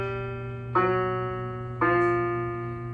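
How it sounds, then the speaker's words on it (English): Piano bass notes step down chromatically, each new low tone struck clearly over a held, ringing drone, with two distinct note changes sounding alone, close and moderately loud. "I'm going to walk down stepwise using the chromatic notes in between, so that the bass sounds something like this."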